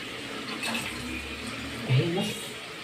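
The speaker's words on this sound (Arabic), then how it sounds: "انا بقى على الصينيه دي ان شاء الله هحط عليها نص كوبايه ميه" Half a cup of water is poured onto a tray of spiced eggplant, making a soft, brief splash and trickle at low level over a quiet room background.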